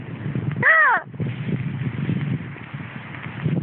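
A lone seagull standing on a spot of dry land gives a single harsh call, with a faint outdoor background of soft rustling and low noise.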